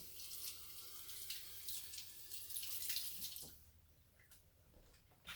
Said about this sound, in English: I should have rinsed this one beforehand, so I just go rinse it.